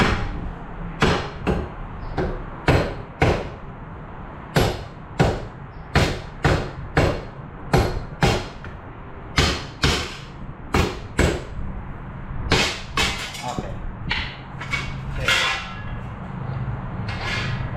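A hammer strikes a loose axle on a Toyota RAV4 front wheel bearing and hub, giving about two dozen sharp metallic taps in irregular bursts, loud and close, with no talking.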